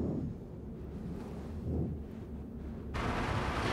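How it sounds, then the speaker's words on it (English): Wind in the Star Citizen video game at sunset, a steady broad whooshing roar with slow gusting swells that brightens and strengthens near the end, heard alone without talk. "Starting to get a bit windy as well."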